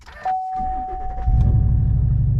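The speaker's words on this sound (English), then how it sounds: "let's turn the truck on" A Chevrolet Silverado or GMC Sierra pickup starts up close by: a chime tone, a short starter whir, then the engine catches and settles into a loud, steady low idle.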